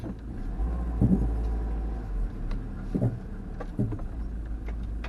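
A camper van engine idling and rumbling at low speed while manoeuvring to turn around on a Cornwall road, steady and close with a few brief knocks and bumps.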